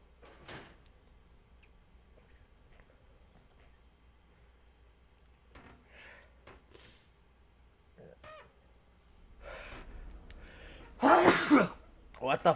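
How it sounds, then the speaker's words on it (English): A loud sneeze bursts out near the end of a Metal Gear Solid: The Twin Snakes stream, followed by a second, after a stretch of quiet game sounds and scattered clicks. "What the fuck is with the sneezing?"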